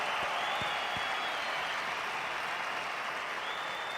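Crowd applause at a hockey arena in Montreal, a steady, even roar of clapping and cheering from a large audience heard at a distance, with a few low thumps early on.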